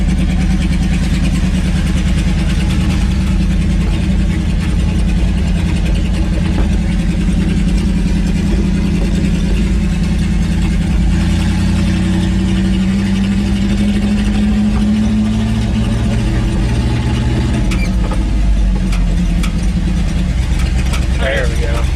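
A 1978 Dodge D100 pickup truck that had sat almost twenty years, its engine running loud and close while driving, a steady low drone that rises in pitch and then shifts as it changes speed near the end.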